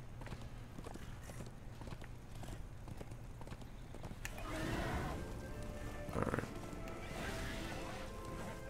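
Horse hooves gallop in quick, rhythmic clip-clop in the video game Darksiders 2, steady and moderately loud under game sounds, with bursts of combat noise partway through.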